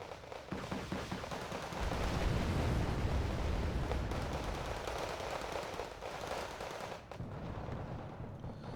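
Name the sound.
rocket launchers firing in the video game Wargame Red Dragon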